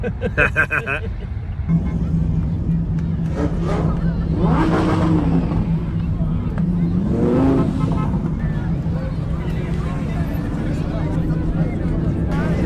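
A car drives on the road during the Bumblebee 1000 charity run across Ireland, its engine droning steadily inside the cabin with a couple of revving swells while people talk over it.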